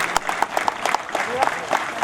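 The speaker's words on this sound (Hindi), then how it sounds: "जोरदार तालियां हमारी मेडिकल टीम के लिए, हमारे सभी कोरोना वॉरियर्स के लिए" An Independence Day gathering at the Banaras Locomotive Works in Varanasi claps for the medical team and Covid workers, a moderately loud spell of scattered, sharp handclaps under an announcer's voice.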